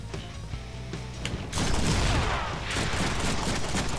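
Deadpool's guns firing in the Deadpool video game: dense, continuous rapid gunfire that bursts in loudly after a quieter stretch of game background, with clattering booms layered throughout.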